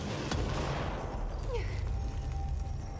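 Gunfire from shooting in the video game Control, one sharp shot near the start followed by a steady rumbling, crackling wash of game effects, with no talking over it.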